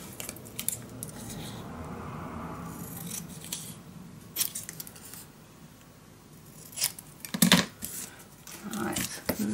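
Scissors cut black scrapbook paper for a mini album, with scattered close snips and crisp clicks over soft paper rustling and faint background noise, no talk.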